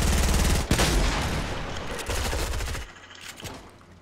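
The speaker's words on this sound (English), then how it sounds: "Dude, there's a guy shooting you!" Heavy automatic fire from the video game Fortnite, a loud, dense stream of rapid shots with a brief break, then ending in a few scattered, lighter shots.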